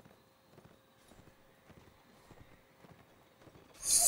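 Horsemen riding in the video game Mount and Blade: steady clip-clop of hooves in a faint, even gallop rhythm, ending in a sudden loud burst of noise.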